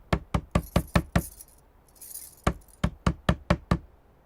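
A door is rapped hard in two quick bursts of about six or seven close, sharp knocks each, separated by a brief pause.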